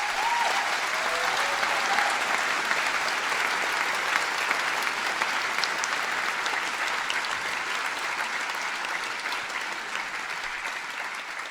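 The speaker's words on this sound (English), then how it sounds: "Could you please give them a massive round of applause?" Sustained applause from a large graduation ceremony audience, a dense steady patter of many hands clapping continuously at even loudness throughout, with no talk over it.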